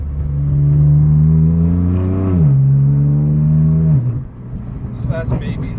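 A straight-piped BMW M4 F82 cruising at light throttle in sport mode gives a loud, droning exhaust tone that rises and falls once before easing off. Someone talks over it.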